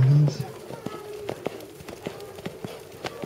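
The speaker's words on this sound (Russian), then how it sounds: "Полевой галоп." Horse hooves beat on the ground during a field gallop at a riding event in Gagauzia, a steady run of soft, fairly faint thuds, with a brief voice at the very start.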